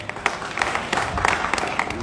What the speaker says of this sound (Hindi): एक आस्था के लिए ताली हो जाए।